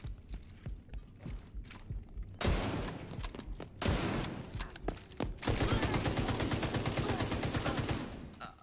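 Gunfire in the shooter game Division 2 during a roadblock fight, scattered shots at first, then dense bursts and a long sustained volley of rapid automatic fire, loud and close.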